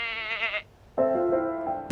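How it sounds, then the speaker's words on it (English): Goats among argan trees in Morocco give two loud, wavering bleats close by, a short high call and then a longer lower one after a brief pause. "There's goats that literally climb up the trees to get the argan fruit."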